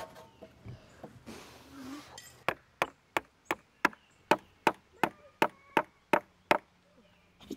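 Easy-to-split wood is chopped outdoors with a steady series of about a dozen sharp, evenly spaced strikes, each a crisp close-up thwack, following a quieter rustling start.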